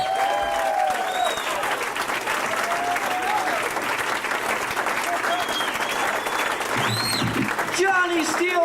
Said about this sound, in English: I want you to keep clapping for everybody that you saw tonight